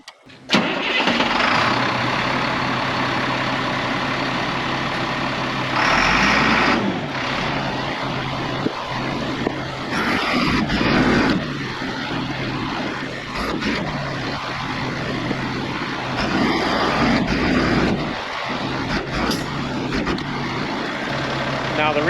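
A vehicle engine cranks and starts, then idles and runs steadily while downriggers are lowered, with people talking over the engine noise throughout.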